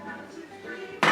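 A metal pan handled in a home kitchen while making lobster mac and cheese: a quiet background, then one sharp, bright clank near the end.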